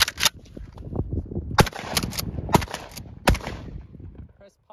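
Airsoft gun shots fired at a metal bucket during a range day on a farm, a series of sharp cracks with metallic pings, some in quick succession, while people talk between shots.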